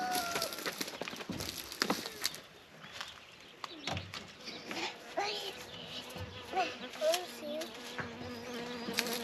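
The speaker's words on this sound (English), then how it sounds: "Ooh, that honeybee. Yeah, there's a honeybee." A honeybee buzzing close by in a farm garden, its drone weaving in and out among rustling, bumps and faint bird sounds, with bursts of louder handling noise.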